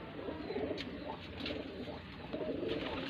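Domestic pigeons coo at a fancier's loft: soft, repeated low throaty coos overlapping at close range, fairly faint and continuous over the few seconds.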